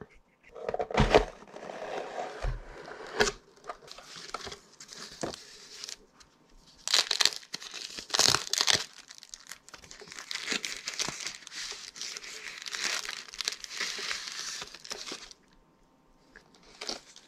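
Packaging for an iPhone 13 mini is opened, with close crinkling, tearing and rustling of wrap and cardboard in irregular bursts, interspersed with scattered bumps and occasional speech.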